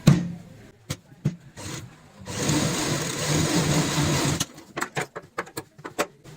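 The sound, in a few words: sewing machine stitching a cloth purse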